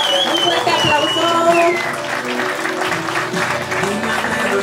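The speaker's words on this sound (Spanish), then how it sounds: "Un fuerte aplauso." Applause breaks out at a quinceañera celebration, a dense wash of clapping that stays steady throughout, with a voice and tonal, music-like sounds running over it.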